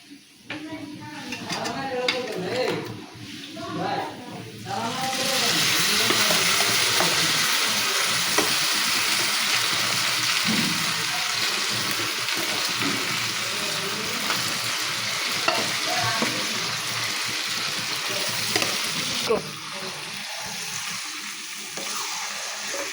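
Beef goes into a pan of fully fried onions for a Bengali kala bhuna curry and sizzles loudly while being stirred, a continuous hiss with occasional scrapes, after some quieter kitchen sounds and voice at the start.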